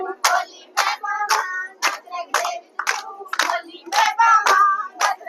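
Women clap their hands in a steady rhythm at a Teeyan folk dance gathering, roughly ten sharp, close claps spaced evenly, with faint singing voices between them.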